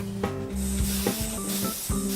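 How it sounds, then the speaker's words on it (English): Glue is sprayed onto a wooden Art Deco box in a woodworking workshop, in three short hissing bursts a second or so apart, close and fairly loud over a low steady hum, with no talk. "Just spraying it now."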